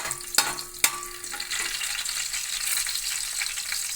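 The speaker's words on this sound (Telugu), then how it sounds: "ఆయిల్ వేడెక్కిన తర్వాత పచ్చిమిరకాయ ముక్కలు వేసుకోవాలండి ఇవి కొంచెం వేగాలండి" Green chili pieces hit hot oil with two sharp clattering drops, then fry in a loud, close sizzle that keeps spitting and crackling steadily to the end, with no speech.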